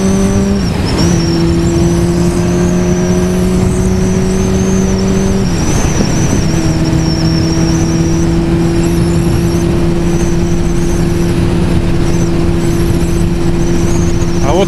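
Motorcycle cruising on a highway at steady speed, its engine holding an even drone over loud, constant wind roar, with a brief dip in pitch partway through as the revs shift.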